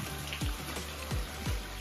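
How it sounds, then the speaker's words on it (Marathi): Steady rain patters on a surface at a hill fort in the Sahyadri mountains, with a few heavier drips landing at intervals over the continuous wash of falling water. "आता खूप चांगला पाऊस आहे"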